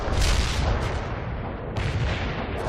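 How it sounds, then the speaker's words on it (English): A heavy artillery barrage in the World in Conflict video game booms as a dense, continuous roll of blasts, loud and rumbling for the whole stretch, with a sharp fresh hit partway through. "commencing the barrage. We can deploy and lay down the heavy barrage."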